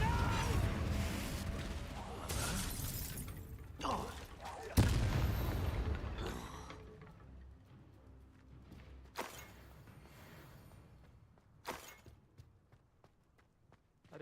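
A Confringo blasting spell explodes in the Hogwarts Legacy video game: one heavy, booming burst stands out amid other game noise, followed by a few sharper, fainter impacts.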